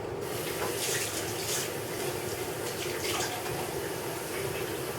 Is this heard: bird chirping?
no